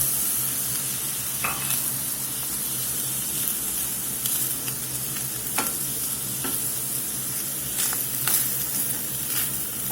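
Canned green chilies hit a hot pan for an enchilada casserole, a steady close sizzle with scattered scraping stirs and light spatter, no voices.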